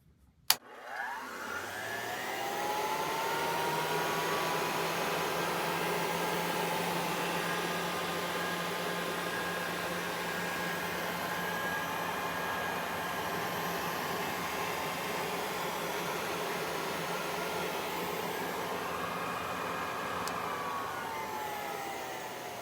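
An antique Singer R2D vacuum cleaner, freshly restored and lubricated, starts on its low setting and runs with a steady whirring motor hum and a faint whine for over twenty seconds, with no talk over it.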